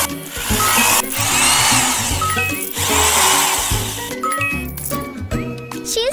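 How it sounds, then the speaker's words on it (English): Cartoon power drill boring a hole during a pony hair salon makeover game, a whirring buzz in two long bursts with chimes and tinkling effects layered over a bouncy backing tune. "Let's drill the hole."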